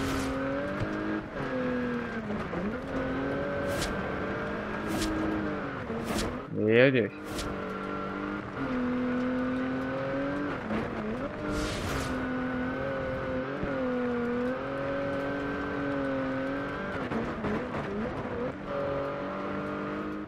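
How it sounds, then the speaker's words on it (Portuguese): Maserati Ghibli turbo engine heard from inside the car in Forza Horizon 2, a steady droning engine note with shifting pitch through gear changes, running under continuous talk and a brief exclamation. "Por dentro do carro a gente consegue escutar o turbo do carro."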